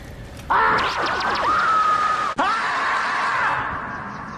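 A woman's drawn-out scream at a horror film jump scare in a creepy boiler room, bursting in loud and sustained with wavering pitch, a brief break, then continuing before slowly trailing off.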